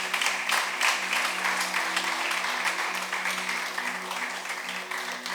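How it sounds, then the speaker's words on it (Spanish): A church congregation claps for Jesus during a sermon, sustained, dense applause at a steady level, with a low steady hum beneath it and slight fading toward the end. "dale un aplauso al Señor Jesús"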